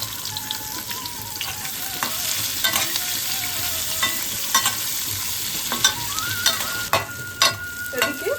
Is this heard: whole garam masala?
yes